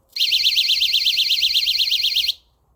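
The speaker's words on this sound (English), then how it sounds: "window alarms, magnetic window alarms" A loud, piercing magnetic window alarm warbles rapidly for about two seconds, close and steady, then cuts off.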